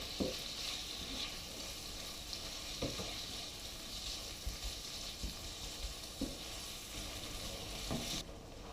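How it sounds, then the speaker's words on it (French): Meat with turmeric and cinnamon sizzles in a pan over medium heat, soft continuous frying broken by periodic scraping stirs of a utensil, no talking. "À feu moyen, on va continuer de remuer pendant 10 minutes."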